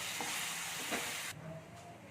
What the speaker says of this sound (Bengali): মুগ ডালটা দিয়ে ভালো করে কষে নিচ্ছি মশলার সাথে